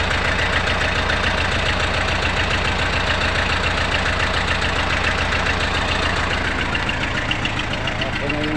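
A jeep engine idles steadily after a clutch adjustment, a loud, even mechanical chugging with a rhythmic knock that runs throughout.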